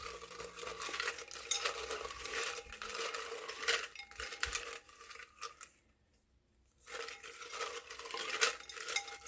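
Tarot-style cards shuffled by hand during a card reading, giving a busy papery riffle-and-clatter at close range that stops dead for about a second before resuming.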